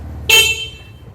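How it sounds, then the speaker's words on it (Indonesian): Horn of a Honda CB100 K5 motorcycle under restoration, sounding one short, loud, bright beep close by that cuts off quickly, with faint background hum before it. "klakson,"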